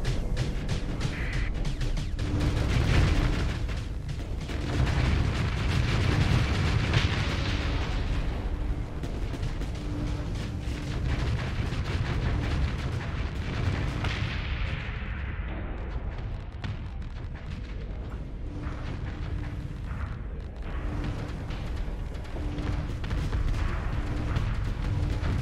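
Missile volleys detonate in a Starsector space battle, with heavy booming blasts and deep rumbling explosions rolling on continuously, loud and dense with no pauses.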